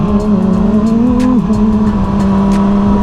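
Two 600cc supersport motorcycles, a 2022 ZX6R, a 2020 Yamaha R6 and a 2019 CBR600RR among the bikes racing, hold a loud, close high-pitched engine drone that dips briefly and then climbs again as the throttle is worked.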